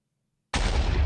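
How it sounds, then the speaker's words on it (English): Loud sudden blast bursting in after half a second of silence in Minecraft, sustained broadband roar filling the rest of the moment like a TNT explosion, no talking. "Explosions, everybody! Explosions."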